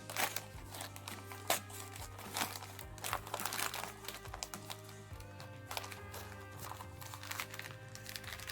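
Sealed plastic packaging around a commemorative 5 hryvnia coin being pulled and torn open by hand: close, continuous crinkling and crackling with sharp snaps and rustles, fairly quiet throughout.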